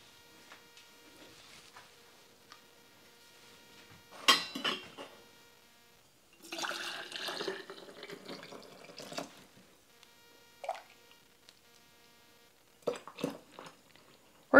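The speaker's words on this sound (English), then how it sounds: "We're going to be filling this up to 1/4 inch from the top of the jar, per the instructions." Quart jars filled with tomato juice poured from a two-cup measuring cup, with quiet pouring, clinks of glass and utensils, and a few louder splashy bursts in a calm kitchen.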